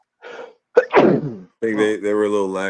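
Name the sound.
sneeze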